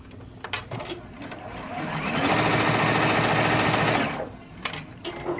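A sewing machine stitches a dress skirt in one steady run lasting about two seconds, loud and close, with quieter handling clicks before and after.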